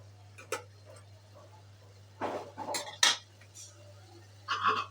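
A metal lid is set onto a cooking pot of dried kachki fish curry, giving a few close clinks and clatters against the rim over a steady low hum.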